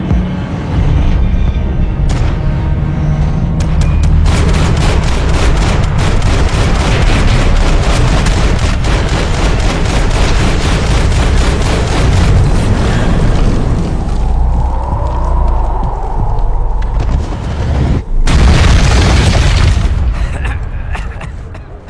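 Loud, sustained Max Payne 3 firefight: heavy booming explosions and rapid gunfire bursts packed tightly together for about twenty seconds, with a short lull in the middle before another big blast near the end.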